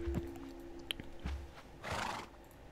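Horse in the Minecraft video game, with short neighing and snorting sounds plus a louder breathy whinny near the end, heard close and alone.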